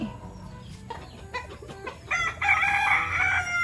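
A rooster crows once in the middle distance, a long rising call standing out over faint outdoor background noise.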